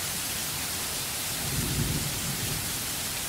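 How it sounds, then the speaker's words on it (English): Steady heavy rain hisses close by, with a low rumble of thunder swelling briefly in the middle. "Soon the rain starts, small drops at first, then larger drops,"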